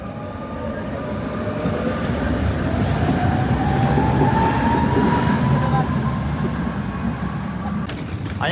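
A tram running through Prague's streets, a sustained rumbling roll with a faint rising metallic whine, steady and fairly close amid street ambience.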